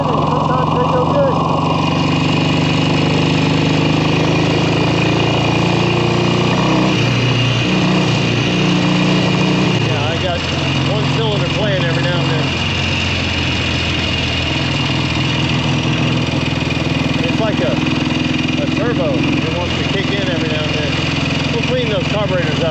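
A 1967 Kawasaki W1 650 vintage motorcycle engine runs steadily nearby, a constant throbbing rumble that shifts pitch partway through, with someone talking over it.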